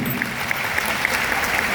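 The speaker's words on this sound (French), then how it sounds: "Est-ce qu'on peut applaudir ça aussi?" Audience applause at an African business conference session on fundraising, a steady, dense wash of clapping from a crowd, moderately near and continuous throughout.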